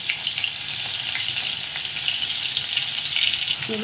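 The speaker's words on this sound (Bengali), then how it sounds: "তারপর আমি 1 চা চামচ আদা রসুনের পেস্টটা দেবো।" Ginger garlic paste, added with green chillies, fries in hot oil in a wok for a fish curry, giving a loud, steady, close crackling sizzle throughout.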